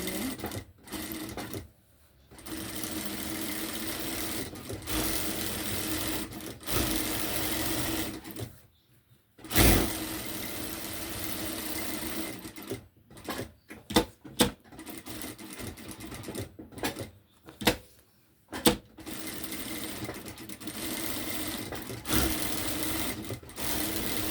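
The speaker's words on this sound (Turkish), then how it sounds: "Çıma çekiyorum sapımızın kenarlarını böyle ince bir şekilde dikiş gidiyorum." A sewing machine runs close and loud, stitching thin seams along the edges of a cloth bag handle. The steady mechanical whirr comes in long runs broken by brief stops and restarts.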